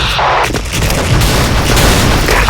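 A video game explosion: a heavy booming blast opens, then a rumbling, crackling roar rolls on loudly and continuously with no talk over it.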